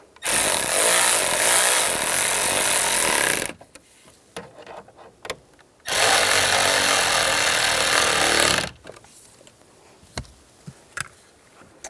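Cordless power driver tightening screws on a 1998-2010 Volkswagen Beetle hazard switch, two loud sustained whirring bursts of about three seconds each, separated by quiet clicks and handling noises.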